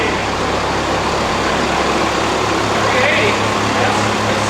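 Truck engine on a dyno being cranked up through a power run, a loud, close, sustained roar with rising drone and roller noise filling the space, steady and unbroken for a few seconds.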